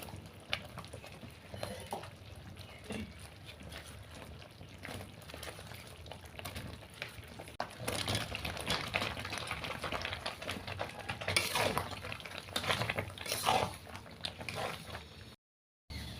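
Plums go into a pan of hot melted sugar and jaggery syrup for a pickle, making steady bubbling and wet sizzling with scattered stirring clinks. The sound grows louder partway through, then briefly drops to silence near the end.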